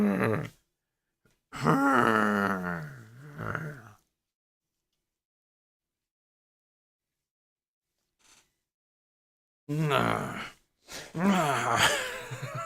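A person imitates zombie groaning, making a few drawn-out, guttural moans and grunts close to the mic, separated by long stretches of silence.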